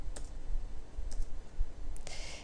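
Scattered keystrokes on a computer keyboard tap out in a few sharp, isolated clicks over a low background rumble while code is entered for a Java program.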